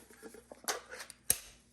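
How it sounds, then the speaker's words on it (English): A can of Trader Joe's almonds is opened up close, with a few small scrapes and then a sharp metallic pop as the lid comes free, followed by a faint rattle. "pop open this can"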